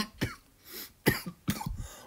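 Three distinct coughs in a row, close to the microphone, each a sharp burst with a short gap between, with no talking.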